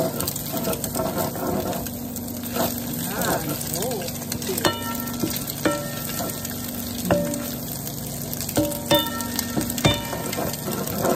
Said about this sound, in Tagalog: Keep doing halo-halo so it won't get burned.